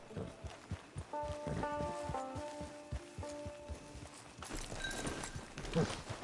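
A horse walks with steady clip-clop hoof falls in the Red Dead Redemption online game, moderately close, over a low game background with tonal music notes.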